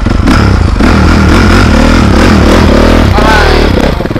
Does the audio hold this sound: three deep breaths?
no